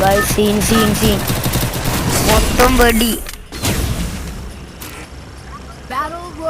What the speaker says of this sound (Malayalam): മൊത്തം വെടി വെക്കുന്ന സൗണ്ടാണ് ഗൈസ്.